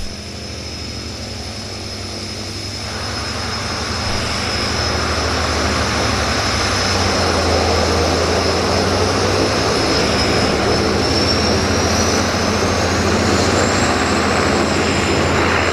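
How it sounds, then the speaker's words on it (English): A de Havilland Beaver floatplane at the Vancouver float base runs its radial piston engine and propeller with a loud, steady drone that swells after a few seconds and holds near and powerful throughout. "Beaver time, Beaver time. We can't miss the Beaver takeoff."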